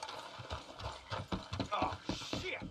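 Rhythmic hoof clip-clops from horses in the video game Red Dead Redemption 2, close and steady, mixed with some clattering mechanical noise.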